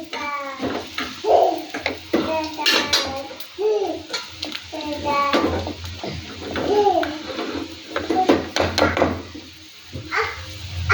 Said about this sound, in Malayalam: എൻ്റെ പുറകിലേ കൊച്ചു കൊച്ചു പാട്ടുകൾ പാടുന്നത് എൻ്റെ കൊച്ചുമോനാണ്